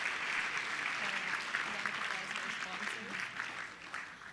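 Sustained applause from a large audience at a Model UN conference opening ceremony, dense even clapping filling the room for several seconds, with a voice faintly underneath.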